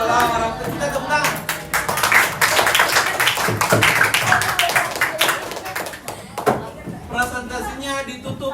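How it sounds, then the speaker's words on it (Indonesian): After a group presentation in a classroom, a group claps their hands in an uneven burst of close, sharp claps that rises and fades, with people talking over it. "Kita tepuk tangan"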